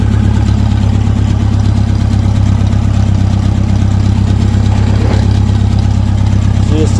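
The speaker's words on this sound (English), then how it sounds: "Just a nice driving tractor" A Massey Ferguson 135 tractor engine runs close by, a loud, steady low diesel throb with a regular rapid pulse and no obvious revving.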